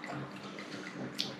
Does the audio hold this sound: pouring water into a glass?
yes